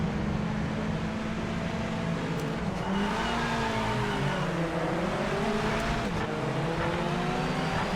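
A Mazda MX-5 engine in the Project Motor Racing game, US MX-5 Trophy race, revs steadily toward 6,000 rpm at the start, its pitch climbing and wavering at a constant loud level with no talking.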